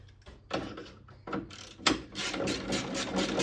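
Ratcheting clicks from a 13 mm wrench threading bolts onto a Sea-Doo GTI jet pump, several close bursts of rapid metallic ticking separated by brief pauses, with no talking.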